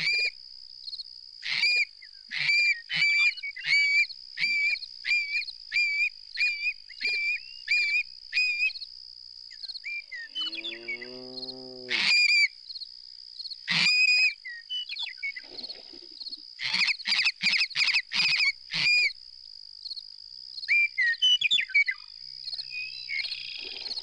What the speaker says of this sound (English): This is a marbled godwit. It nests right here in the open prairie.